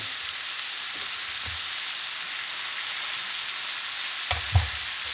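A loco moco burger patty frying in a cast iron pan gives a steady, dense sizzle throughout, close and even, with a couple of soft knocks near the end and no voices.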